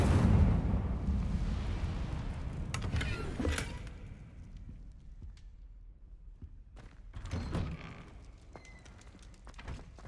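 An Incendio fire spell cast in Hogwarts Legacy, a loud whooshing burst of flame at the start that fades, followed by a few scattered thuds and crackles at lower level.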